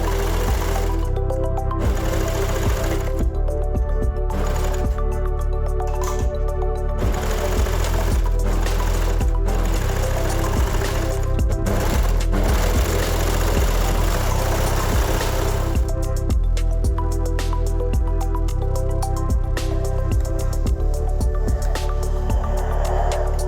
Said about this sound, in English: I'm stitching it together using an overlocker.